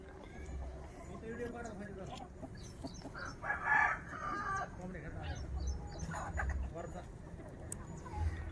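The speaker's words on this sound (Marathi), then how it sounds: "कोंबड्या कशा खातात हे तुम्हाला मी लगेच दाखवतो" Chickens cluck and murmur softly while feeding on fenugreek grass, with scattered calls close by and someone speaking over them.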